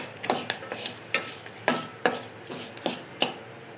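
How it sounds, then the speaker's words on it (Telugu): Dried red chillies being stirred in a hot oil tempering for a ridge gourd peel chutney, with a steady sizzle and about eight sharp, evenly spaced scrapes of the spoon against the pan, close and clear with no talk. "వేసుకొని ఈ పోపు అంతా కూడా మంచిగా కలుపుకోవాలి"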